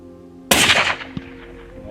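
A rifle shot fired while hunting in Africa cracks loudly once and booms out across open ground, followed by a fading tail and a fainter secondary thump.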